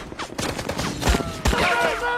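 Rapid bursts of gunfire crackle through an intense film battle against enemy troops, with heavy thuds and sustained rattling over a dense, loud mix of effects.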